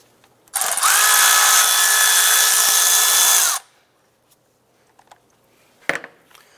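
A power tool spins out a bolt during an air intake install on a 2001–2005 Honda Civic, a loud whirring burst lasting about three seconds, followed by quiet clicks and a short metallic clatter.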